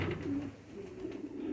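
Pigeons coo close by in low, throaty, rolling calls at a pigeon show, with several soft overlapping coos in quick succession.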